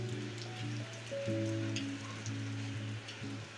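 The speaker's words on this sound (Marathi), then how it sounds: "पुण्यात पाऊस खूप आहे." Rain falls steadily in Pune, a soft, even wash of drops on surfaces, while a low, faint electric hum runs underneath.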